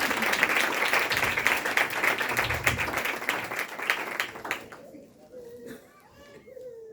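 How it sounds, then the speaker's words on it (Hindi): A church congregation at a Christmas service in Urdu/Hindi claps loudly for several seconds, dense broadband applause that fades out near the end, with children's voices and some chatter mixed in and a voice speaking afterward. "मैं चाहूंगा इस कलाम मुकद्दस के लिए जो पढ़ा गया है जोरदार ताली बजाइएगा।"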